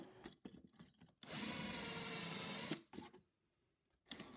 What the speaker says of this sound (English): Now I drill 2 holes into the metal plate